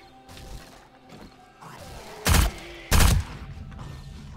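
An SMG fires in the zombie survival game 7 Days To Die during a horde mode fight. Two loud, short bursts stand out over a low rumbling game backdrop with scattered softer thuds.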